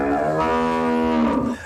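A cow moos once, long and loud, with a steady, drawn-out low call that rises slightly and trails off at the end, heard alone and close.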